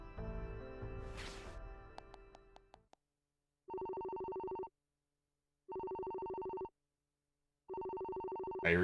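A phone rings in a video game, three evenly spaced electronic bursts of about one second each with silence between them, following a short stretch of music.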